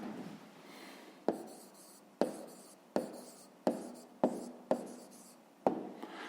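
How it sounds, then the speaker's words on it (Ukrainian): Pen writing out the answer to a fifth-grade math exercise, a soft continuous scratch on paper broken by several sharp taps as strokes land, close and quiet with no talking. "Ну що ж, записуємо відповідь."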